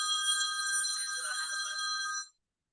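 A mobile phone ringing loud and close with a bright continuous electronic ringtone for about two seconds, then cutting off abruptly into silence.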